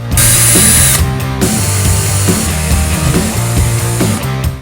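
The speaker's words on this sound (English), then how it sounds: "That way I can make sure I'm precise and the drill bit doesn't walk away from me while I'm drilling." Power drill boring holes in a guitar pedalboard, a loud continuous whine that holds steady for several seconds, with brief dips as the bit bites and eases.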